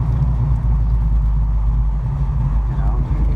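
A deep, lumpy big-cam V8 idle with FiTech dual-quad fuel injection rumbles steadily up close, its uneven loping beat continuous throughout with no voices.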